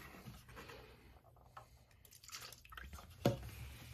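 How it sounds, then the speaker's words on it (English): Watercolor rinse water being changed: soft drips and liquid sloshes, faint and close, ending in a brief sharper splash as the water is poured out or the cup set down. "Let me change my water, it's really green."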